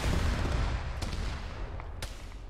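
Gunfire in the Arma military game during a battle near a bunker tower, a loud, rumbling burst of shots at the start, then two sharp cracks about a second apart over steady background noise.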